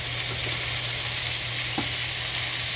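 Lamb chops searing in a hot pan give a loud, steady, even sizzle that continues without a break, with a faint clink partway through.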